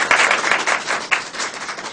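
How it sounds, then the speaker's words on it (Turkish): An audience applauds at a talk or religious gathering, a steady, dense wash of many hands clapping nearby for a couple of seconds with no voices over it. "Bir alkış."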